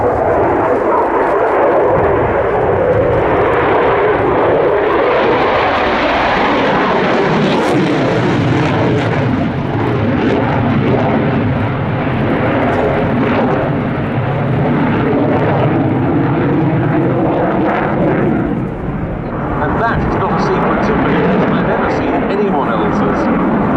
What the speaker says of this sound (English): F-16 display.